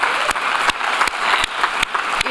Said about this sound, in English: Let me ask for a special round of applause for Charles Chafer